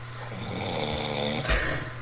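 A friend snores loudly nearby, one long rasping drawn-out breath ending in a sharp harsh snort.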